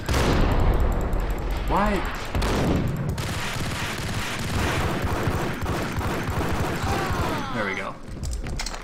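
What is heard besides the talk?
automatic weapon gunfire in the video game Max Payne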